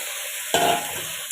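Fenugreek greens go into a close, loud pan frying with prawns, potato and brinjal for chorchori: a low background hiss, then a sudden sizzling burst and stirring scrape midway that settles back to a steady sizzle.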